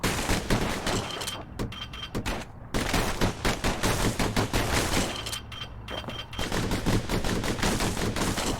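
Gunfire in the Bastion video game, loud rapid bursts of shots rattling almost continuously, with brief lulls between volleys before the firing picks up again.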